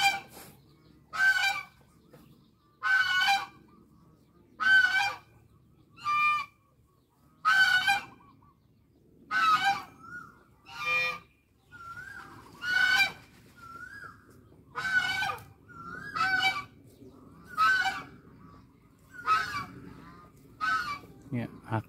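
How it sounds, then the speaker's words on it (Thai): Goslings honk loudly and repeatedly, about a dozen raspy calls spaced a second or two apart, close and clear against a quiet background. "ลูกห่านออกเสียงดัง"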